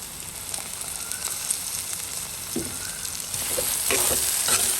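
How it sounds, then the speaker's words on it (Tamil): Onions and tomato sautéing in a pan crackle and sizzle steadily, close by. A few soft scraping stirs come through, and the frying grows a little louder and brighter toward the end. "வெங்காயம் எல்லாம் வதங்கி கொண்டு வந்துடுது"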